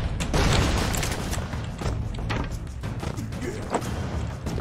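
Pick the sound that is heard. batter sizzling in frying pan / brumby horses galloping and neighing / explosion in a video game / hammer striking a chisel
explosion in a video game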